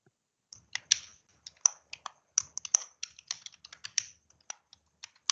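Crisp, close keystrokes on a computer keyboard as a username and password are entered, an irregular run of about two dozen distinct clicks in quick bursts against a silent background.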